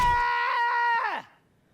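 A piercing scream from The Hundred Line -Last Defense Academy- video game, one loud, sustained high cry that falls in pitch at the end and then stops abruptly.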